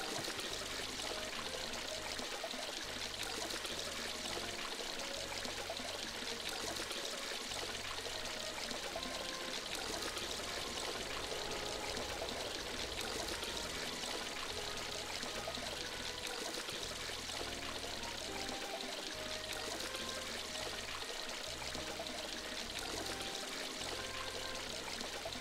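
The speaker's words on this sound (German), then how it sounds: "Der Brunnen im Hintergrund, ne?" A fountain splashes steadily in the background of the video game My Time at Portia, a soft, continuous watery wash with no pauses, fairly quiet and alone throughout.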